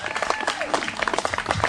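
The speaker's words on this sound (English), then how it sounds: "we need to give a big round of applause to the person that made this thing possible tonight" An audience at a family roast gives a short burst of dense applause, loud and close, with some voices mixed in.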